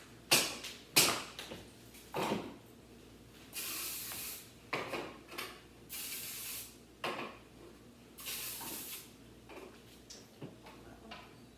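Several short hissing bursts of an aerosol spray, some quick and some longer, with light clinks of pans between them.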